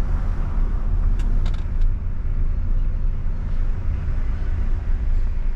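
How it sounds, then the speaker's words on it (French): A car eases off the accelerator and brakes gently to a stop at a traffic light, heard from inside as a steady low engine and road rumble that holds even and unbroken throughout. "On lâche l'accélérateur et on va s'arrêter en douceur au feu"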